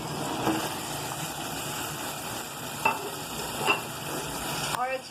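Chicken liver with garlic frying in a pan of cooked-down tomatoes, a steady sizzle stirred throughout, with a few louder scrapes of the spoon and a clatter near the end; no one speaks.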